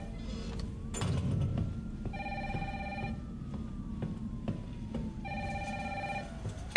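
In the Resident Evil 3 video game, a telephone rings in two clear electronic bursts, each about a second long and separated by a pause, over a low ambient hum and a few soft clicks.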